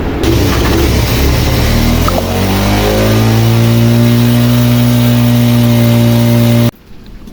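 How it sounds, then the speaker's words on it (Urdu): A Honda CD 70 motorcycle engine starts up close by and climbs into a high, sustained rev that holds steady, then cuts off abruptly near the end. "بائک کو میں اسٹارٹ کرتا ہوں."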